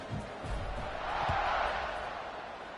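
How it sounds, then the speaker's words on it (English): In the video game College Football 26, the stadium crowd buzzes during a Maryland versus Northwestern online dynasty game after a score, a soft, diffuse roar that swells slightly in the middle, with a few low thumps and murmurs underneath. "this crowd is buzzing after that last score"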